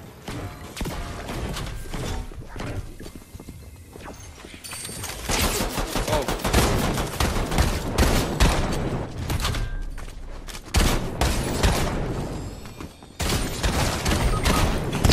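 Rapid bursts of automatic gunfire from a Fortnite match fill the whole stretch, loud and dense with brief gaps, mixed with game effects and no clear talk.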